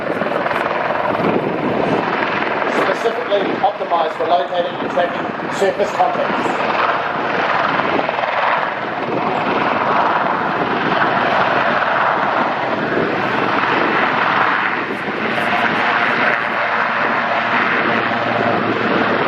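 A helicopter roars steadily and loudly without letup, its rotor noise filling the scene while someone talks over it.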